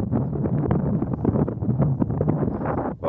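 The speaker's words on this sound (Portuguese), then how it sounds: "Agora o vento é muito forte" Strong wind blowing across an open hilltop at Pedra Bonita in rural Altinho, Pernambuco, a continuous loud roar buffeting the microphone with no pauses.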